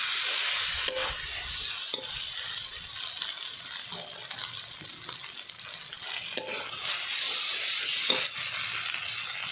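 Sarputi fish drop into spice paste fried in oil and sizzle steadily, while a spoon stirs and clinks against the pan now and then.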